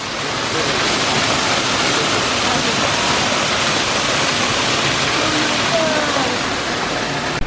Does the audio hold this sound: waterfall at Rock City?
yes